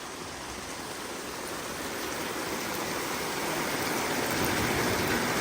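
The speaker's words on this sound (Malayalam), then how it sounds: "അടിപൊളി മഴ എന്ന് പറഞ്ഞാൽ അടിപൊളി മഴ കേട്ടാ" Heavy rain falls in a dense, even hiss that swells slightly louder toward the end, a constant wash of sound with no voices.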